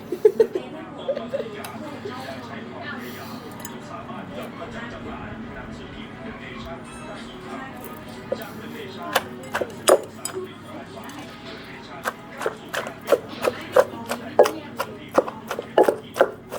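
Papaya salad with bamboo shoots, rice noodles and fermented fish sauce is pounded in a mortar in a bedroom. Someone talks throughout, and the pounding turns into quick, rhythmic, knocking thuds that grow louder toward the end.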